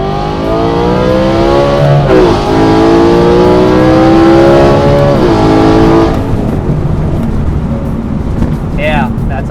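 A loud modified BMW E93 M3 engine revs hard several times, pitch climbing and dropping between throttle blips before settling to a rough idle.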